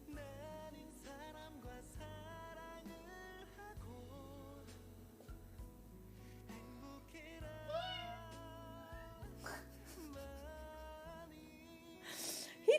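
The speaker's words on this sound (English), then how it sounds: "Do you guys hear the meows?" A cat meows several times in a quiet kitchen, the calls soft and fairly close, over a steady low background hum and without talk.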